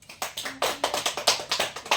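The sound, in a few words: classroom applause for a student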